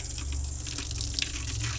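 Water runs steadily from an RV faucet with a constant gushing hiss into a sink, close by, with faint clunks partway through.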